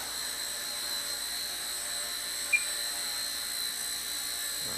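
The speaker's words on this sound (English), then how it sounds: "So we'll just kind of get a hover going." A Blade Nano CP S RC micro helicopter hovers indoors, giving a steady high-pitched whine of rotor and motor that is even and continuous, with one brief tick partway through.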